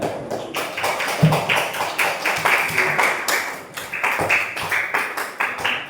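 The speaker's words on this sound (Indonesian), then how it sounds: "Tepuk tangan lagi untuk kita" A classroom of Indonesian schoolchildren clapping their hands together in applause, a dense rhythmic patter of many claps close by and sustained for several seconds, with a faint voice underneath.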